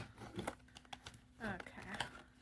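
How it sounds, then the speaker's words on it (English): A cardboard box is cut open. Quiet crinkling and tearing come in short, close bursts, with a little talk underneath. "I'll just cut the box"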